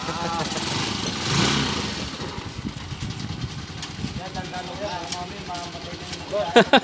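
A Honda TMX125 Alpha motorcycle engine runs at a low idle with a steady mid-pitched rumble throughout, while people talk over it nearby.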